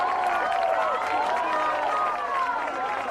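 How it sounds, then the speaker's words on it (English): Noblesville home crowd cheering and calling out at a 2018 girls high school soccer sectional against Hamilton Southeastern, a steady wash of voices and shouts from the stands heard at a distance. "Noblesville crowd likes what they're seeing down there."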